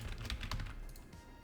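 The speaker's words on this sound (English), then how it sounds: "I'm having trouble typing right now" Rapid, uneven clatter of keys on a computer keyboard during a coding session for a 3D browser MMORPG, close and fairly steady, with no voices.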